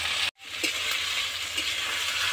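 Ginger and garlic fry in hot oil for a sea crab curry, giving a steady sizzle that cuts off for a moment near the start and then carries on evenly, with no talk.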